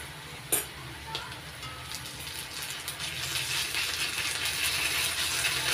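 Ginger garlic paste fries with lightly fried chopped onions in a pan, a steady close sizzle with a few sharp crackles and stirring scrapes, growing slightly louder, no talk.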